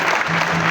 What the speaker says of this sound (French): Nous allons applaudir à nouveau.